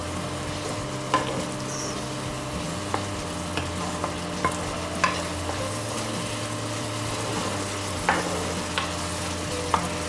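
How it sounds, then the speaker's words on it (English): A pot of dal tadka bubbles and sizzles steadily on the stove, a constant hissing simmer with occasional soft pops and clinks, no talking. "you can see it's boiling now"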